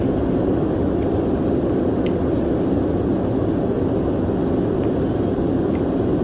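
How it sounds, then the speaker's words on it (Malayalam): A constant, loud roar of jet engines and rushing air fills the cabin of a descending Qatar Airways airliner approaching Kannur Airport, steady throughout with faint clicks in the background. "ഫ്ലൈറ്റ് താവുന്നത് നന്നായിട്ട് മനസ്സിലാവുന്നുണ്ട്"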